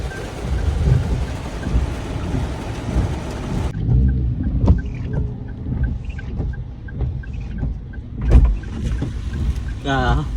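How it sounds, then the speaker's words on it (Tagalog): Heavy rain pours in a steady broadband hiss around a vehicle stopped at a fast-food restaurant, with occasional louder thumps and brief rattles over the constant downpour. "At bigla na ngang bumuhos ang malakas na ulan guys."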